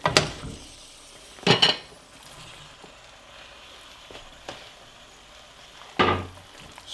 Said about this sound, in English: Going to mix our noodles in here now.